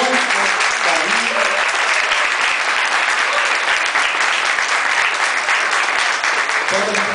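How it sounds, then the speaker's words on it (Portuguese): A crowd at a Black Consciousness Movement event claps warmly for conductor Beth Miller, sustained dense applause lasting several seconds, with faint voices and a hint of tonal sound near the start and end. "pedir uma salva de palmas"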